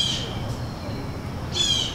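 A pet bird squawks loudly indoors, two sharp shrill calls opening and closing the moment, with low room noise between them.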